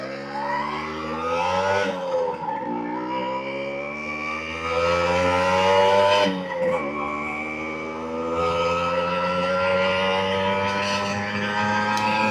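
A small bike or moped engine runs at top speed on a downhill road in fifth gear, a loud, steady buzzing drone with strong harmonics, dipping briefly twice as the revs shift, with wind rushing over the microphone.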